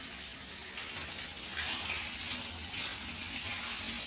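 A steady stream of water pours over a person's head while bathing, a close, dense splashing rush that runs unbroken for several seconds before stopping abruptly.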